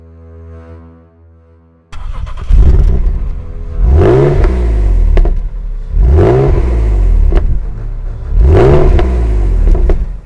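An Alpina Roadster S with a naturally aspirated 300 hp 3.4-litre straight-six, loud and close, revved hard three times in rising blips that fall back to idle, after a quieter idle at the start.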